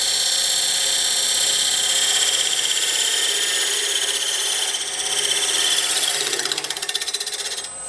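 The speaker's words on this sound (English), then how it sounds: "Now I'm going to go back to my 1/8 inch parting tool and just simply part this off." A wood lathe spinning a workpiece while a 1/8 inch parting tool cuts it off, giving a steady bright scraping whine that holds even throughout, then wavers and thins near the end as the piece separates.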